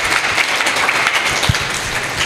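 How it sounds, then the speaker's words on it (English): An audience applauding at a national seminar at an institute, a steady wash of many hands clapping throughout, fairly close and loud, with no one speaking over it. "Give a round of applause."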